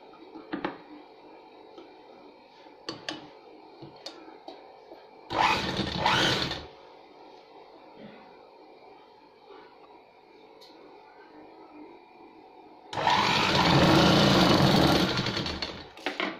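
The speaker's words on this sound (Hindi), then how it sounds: "तो यहाँ से हम पहले एक सिलाई लगा देंगे इसे" An electric sewing machine stitches a seam on a newborn baby sun bonnet, with two loud, fast, buzzing runs of a few seconds each, separated by quiet handling clicks and rustles.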